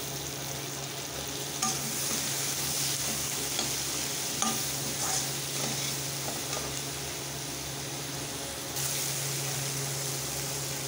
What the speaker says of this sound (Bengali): দিয়ে দেবো একটা টমেটো কেটে নিয়েছি, ওটাও একটু ভেজে নেব।